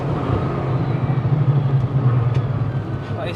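Inside a 1900 hp Nissan GTR cruising on a street, a low, steady engine drone with gentle swells carries under light road noise, heard from within the cabin. No clear talking.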